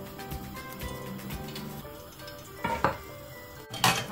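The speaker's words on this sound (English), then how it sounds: "finished heating my cooking oil and I'm adding my onion at this very moment" Onion going into hot cooking oil in a pan for chicken chow mein, with close clattering of utensil against pan and stirring scrapes over a soft sizzle, plus a couple of louder bursts near the end.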